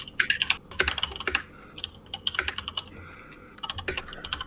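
Computer keyboard typing comes through as quick, close bursts of key clicks in an uneven rhythm, pausing briefly and then resuming, with no voices over it.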